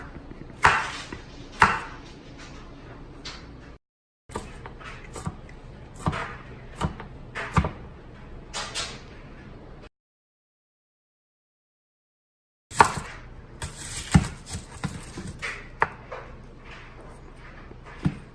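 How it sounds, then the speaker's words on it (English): Knife chopping peppers on a cutting board, a few irregular loud thuds in bunches separated by quiet pauses and a stretch of silence, with no one talking. "Gotta cut your peppers."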